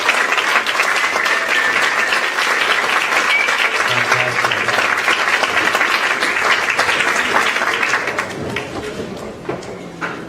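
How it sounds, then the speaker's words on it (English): Audience applause at a middle school band concert for the 8th grade band, loud and sustained clapping from a full crowd that fades slightly near the end. "Let's give the 8th grade one more round of applause."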